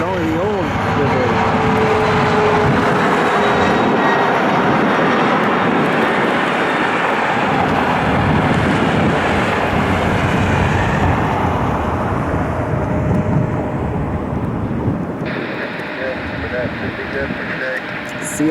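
Broadband jet roar from an Air Canada airliner landing at Cleveland airport, loud and steady throughout and easing slightly near the end, with a voice faintly present under the noise.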